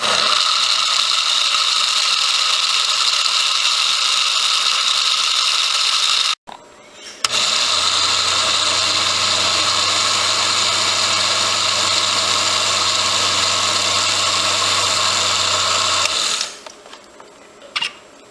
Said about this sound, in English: I'm going to start with the blend button right here.